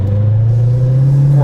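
Steady low hum of a car cruising along, an even engine drone with road rumble throughout and no voices or sharp events.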